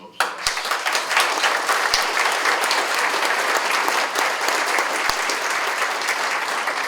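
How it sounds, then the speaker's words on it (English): A crowd at a political campaign launch in Union City bursts into sustained applause, dense and loud clapping holding steady for several seconds right after a short quiet start. "You deserve a tremendous round of applause."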